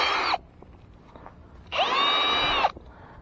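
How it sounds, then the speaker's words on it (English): A power drill turning a 1 inch dirt hole auger bit bores into the ground at a trap site, two loud, steady whining bursts of about a second each separated by a quiet pause. "I'm gonna use my 1 inch dirt hole auger bit"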